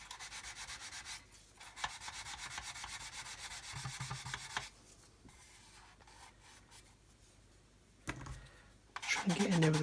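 Sanding filler on a car body by hand, with steady rasping strokes in bursts and short pauses, close and fairly quiet, followed by a louder burst of scraping near the end.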